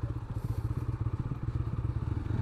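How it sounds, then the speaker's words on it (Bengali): A motorcycle engine idles with a rapid, even low putter close by as the bike is moved a little forward outside a BRTA office. "বাইকটা একটু সামনে রাখি"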